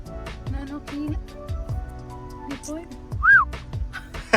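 A person whistles at an animal at the West Midlands Safari Park in the UK. Short, rising whistles repeat several times close by, then one higher wavering whistle follows, with people talking around them.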